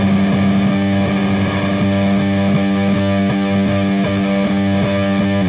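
Heavily distorted electric guitar plays a dense, sustained funeral doom metal riff with repeated chord attacks, dry and up close with no reverb.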